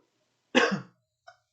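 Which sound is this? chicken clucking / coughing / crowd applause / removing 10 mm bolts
coughing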